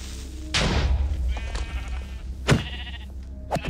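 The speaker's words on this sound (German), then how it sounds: "Oh, Schafe." Sheep bleating in the Minecraft video game, several short bleats spread across a few seconds, close and fairly loud, mixed with game thumps and effects at night.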